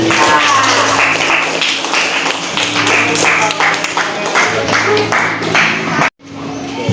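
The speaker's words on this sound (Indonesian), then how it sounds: "tepuk tangan dulu" A classroom of students claps hands together during an Islamic religious education lesson, a steady run of dense clapping lasting several seconds before cutting off abruptly, with a hum underneath.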